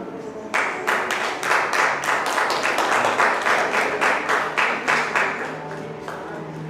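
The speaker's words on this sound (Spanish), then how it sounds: "Vamos a dar un aplauso" A congregation at a Wednesday church meeting breaks into sustained applause, many hands clapping in a dense, rhythmic patter that starts abruptly and stays steady and close for several seconds.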